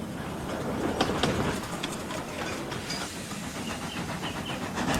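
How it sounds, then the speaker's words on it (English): Toby the tram engine runs along a tramway, giving a steady rumble with soft rhythmic clicking of wheels over rail joints and a faint hiss throughout, with no voices over it. "he saw Toby about to take off along the tramway."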